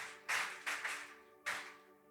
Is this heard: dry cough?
no